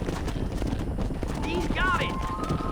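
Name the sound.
horse hooves while herding cows in Red Dead Redemption video game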